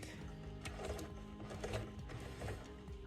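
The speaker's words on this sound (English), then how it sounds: "I'll be sewing directly then to this corner, and leaving my needle in, I'll be pivoting to continue sewing the length." A sewing machine stitches fabric for a bow book pocket craft piece, humming quietly and steadily with a rapid mechanical rattle and small pauses. No voices are heard.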